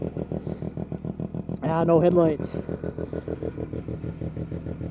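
A rare 1971 Arctic Cat Panther 303 snowmobile with a Wankel rotary engine idles close by in a steady, even pulsing rhythm, with someone talking briefly over it.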